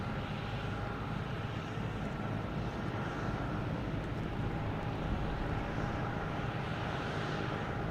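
A JetBlue Airbus A321 jet passes at Boston Logan Airport, a steady, loud broadband engine roar that holds evenly throughout with no break.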